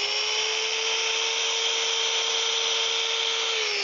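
A steady, continuous whine of a power sander with 80 grit sandpaper working a wooden spatula, loud and unbroken throughout with no pauses.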